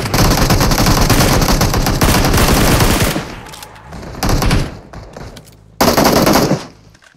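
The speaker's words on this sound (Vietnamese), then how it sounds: "Có tiếng súng kìa" Loud automatic gunfire from the mobile battle-royale shooter PUBG Mobile rattles in a sustained burst, pauses briefly, then resumes with shorter volleys, with no talk over it.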